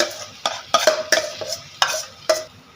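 Raw tender jackfruit pieces stirred with masala in a pan, giving several close, irregular scraping strokes with short clinks of a spoon against the metal.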